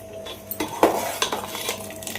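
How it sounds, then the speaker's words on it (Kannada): A metal spoon scraping and clinking around a thick pot as colostrum milk is stirred for a sweet, with a few sharp knocks and scrapes over a quiet background. "ನೀಟಾಗಿ ಕೈ ಬಿಡ್ದಂಗೆ ಅವಾಗವಾಗ ತಿರ್ಕೋತಾನೆ ಇರಬೇಕು."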